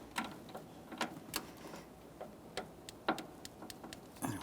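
Sparse, irregular clicks of a torque wrench ratcheting on a speed sensor bolt of a 2014-2019 Toyota Corolla 1.8L, quiet dry ticks spaced unevenly over a few seconds.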